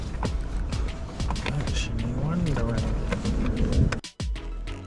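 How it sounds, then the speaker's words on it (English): A Citroen C1 engine running with its air filter removed, a loud close rumbling drone with rough intake noise and voices talking over it, ending with a sudden drop. "I'm wondering how this car sounds without an air filter, you know?"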